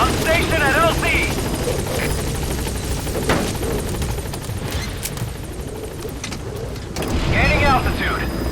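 Helicopter arriving at a landing zone in Metal Gear Solid V: The Phantom Pain, a loud steady rotor drone with bursts of what sound like gunfire, under radio-style voices heard at the start and the end.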